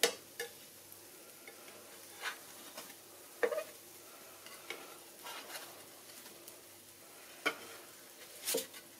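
Yogurt pan rolls fry in an uncovered pan, giving a soft sizzle under scattered clicks and light scraping taps, with no talk.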